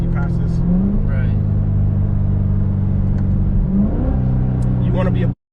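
A Chevrolet LT4 V8 running flex fuel with a CCNC Stage 1 kit roars loud and close through a hard pull, revs climbing, dipping at a gear change near four seconds, then climbing again before cutting off abruptly.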